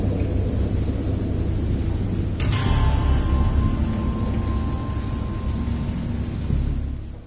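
Thunder during a storm in the video game Dagon: a loud, continuous rumbling roar with a sharp crack of a thunderclap a few seconds in, then slowly fading.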